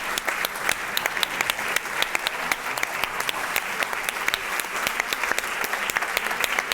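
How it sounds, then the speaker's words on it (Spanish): Audience applause at a live conversation event, steady dense clapping from a crowd that holds for several seconds without a break. "Un aplauso para Ezequiel Isaac."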